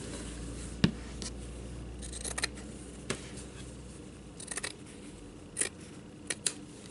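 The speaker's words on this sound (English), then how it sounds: "scissors and kind of rough cut this out around the line, not on the line." Scissors rough-cut paper around a drawn line for a Christmas jam-jar decoration, with sparse quiet snips and rustles scattered over a soft room hiss.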